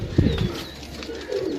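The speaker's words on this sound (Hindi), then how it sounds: "पुराने कबूतर जनाब" Old Persian-breed pigeons cooing close by, a few soft throaty coos in quick succession with no talk.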